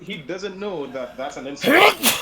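A sneeze bursts out after about 1.6 seconds of steady conversational talk, loud and close, followed by a brief tail of breathy noise.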